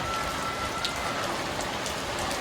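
Steady rain falls on a road in Balihar para across the whole stretch, a dense even hiss of drops on a hard surface with no voices.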